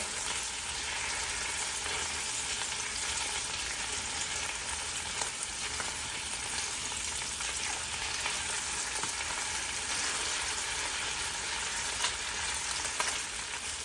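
Sea scallops sear in a hot pan with a steady, loud sizzle and frying crackle that continues for about fourteen seconds, with an occasional faint clink and nobody speaking.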